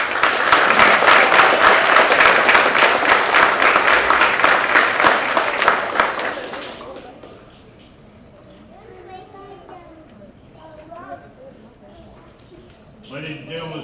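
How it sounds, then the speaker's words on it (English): Loud, sustained audience applause with dense clapping for fire academy graduates at a graduation ceremony, lasting several seconds before fading into quieter room noise and scattered voices. "let's give all these firefighters a round of applause"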